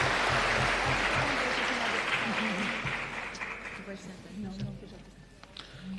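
Applause from the audience at a solemn session of Brazil's Chamber of Deputies, welcoming a federal deputy, fills the hall loudly at first and gradually tapers off, with voices murmuring underneath.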